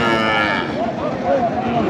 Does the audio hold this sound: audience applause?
no